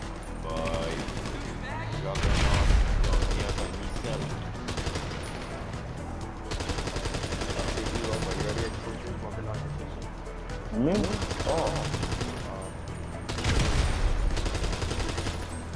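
An MP1 submachine gun fires in GTA V in long rapid automatic bursts separated by short pauses, loud and close amid other gameplay sounds, with voices talking over it.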